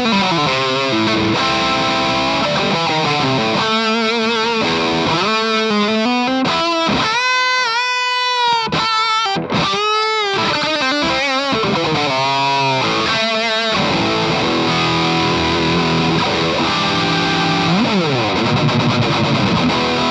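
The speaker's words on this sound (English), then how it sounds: "We'll start on a super crunch just to give you a classic sort of high gain sound with a delay and a reverb" An electric guitar played through a Blackstar ID Core Stereo 100 amp on a super crunch high-gain setting with delay and reverb, sustained distorted chords and notes ringing with echoing trails, loud and continuous.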